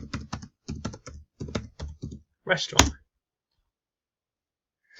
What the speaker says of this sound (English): Let me go and type in restaurant.